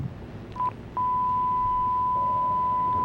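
Telephone line beeping when a call goes unanswered: a couple of short tones, then one long steady high-pitched beep held to the end, over faint background noise.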